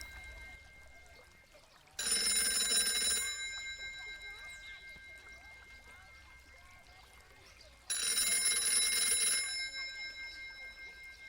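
An old-fashioned telephone bell rings in two loud, bright bursts of about a second each, separated by several seconds of quiet room tone, and each burst fades out as it ends.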